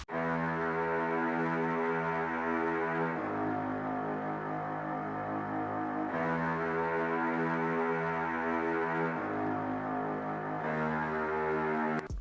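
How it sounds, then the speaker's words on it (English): Low, sustained cello notes from a dark classical cello preset, bowed one after another, each held about three seconds before shifting pitch, rich and steady with no talking. "the last instrument that comes in this section is a cello"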